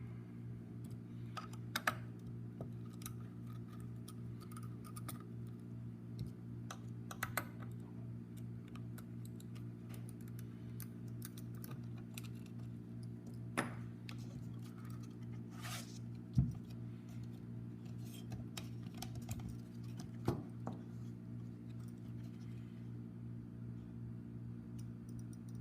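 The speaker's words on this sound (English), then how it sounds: "Taking off the heatsink" A heatsink is worked off a Gigabyte R9 280X graphics card that has an overheating fault. Scattered small clicks and taps of screws and metal parts sit over a steady low hum throughout, with no talking.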